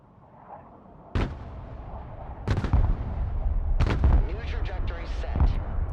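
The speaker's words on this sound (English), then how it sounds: "Artillery at your command, sir. Direct fire on my mark." Artillery direct fire in the video game Broken Arrow, three heavy booming shots spaced a second or so apart, each with a rumbling tail, over faint background game sounds.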